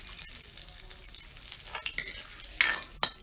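Garam masala sizzles in hot oil in a village-style Assamese kitchen, a steady crackling hiss broken by a few sharp stirring clinks and scrapes near the end.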